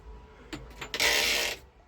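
A short ratcheting click followed by a smooth, close sliding rasp lasting about half a second as a sun shade is pulled inside the cab of a 2023 Lovol 504 tractor.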